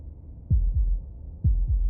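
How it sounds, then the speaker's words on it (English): A heartbeat sound effect from the video game Slay The Princess beats twice as two low, close double thumps, heavy and muffled, with no other sound around them. "That was the sound of a heartbeat,"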